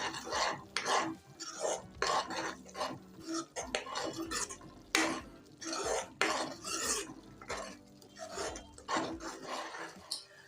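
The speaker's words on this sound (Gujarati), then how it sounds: "હવે મસાલો સરસ રીતે મિક્સ કરી લઈશું" A spoon scrapes and stirs spice masala in oil in a pan for a whole-onion curry, rhythmic metallic rasping strokes repeating close by without pause.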